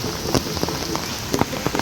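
Rain pattering steadily on surfaces at an outdoor zoo in Trivandrum, a dense close hiss broken by a few sharper drips and splashes, with no talking.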